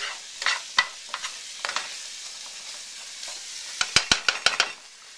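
Ingredients sauté in a hot pan with a low sizzle, broken by sharp clicks and scrapes of a utensil stirring against the pan, the strikes bunching into a quick burst near the end.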